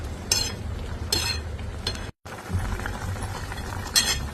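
Spinach cooking in a pan is stirred with peanut powder and salt, giving a few sharp clinks of a spoon against the vessel over a steady low bubbling, close and fairly quiet, with a short gap midway.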